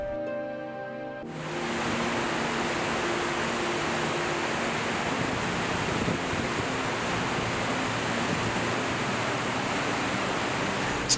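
Victoria Falls, the huge waterfall straddling Zambia and Zimbabwe, roars as a dense, steady wash of broadband noise that swells in after a brief quieter start and holds loud and unbroken.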